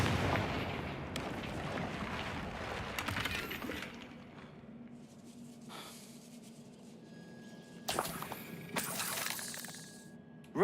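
Bombardo and Confringo explosion spells in the Hogwarts Legacy video game blast and shatter, with a rumbling burst early on, then a quieter stretch before a sharp crashing impact with debris near the end.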